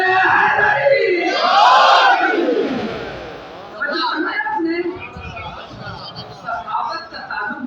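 Large crowd at a Muharram majlis gathering loudly shouting the Nara-e-Haidari slogan in unison, a roaring burst of voices that swells and then fades into scattered calls and murmuring.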